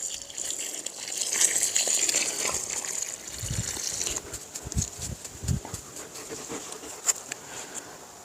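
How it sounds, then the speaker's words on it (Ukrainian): Water poured around a newly planted panicle hydrangea bush in a pot after fertilizer is added, a steady gush that thins to trickles and a few soft splashes. "Все гарненько проливаємо."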